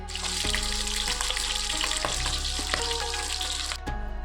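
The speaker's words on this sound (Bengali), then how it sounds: "তোমরা শুধু মাছ ভাজার আওয়াজটা শোনো কেমনভাবে মাছগুলো ফুটছে" Loud, steady sizzling and crackling of fish frying in hot oil, continuous throughout with small pops, close by and with no voices.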